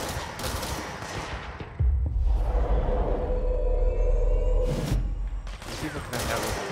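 Gunfire crackles in the game Control, with bursts of automatic fire and heavy booming impacts over a sustained low rumble, some shots sharp and near, others more distant, with a voice talking over it.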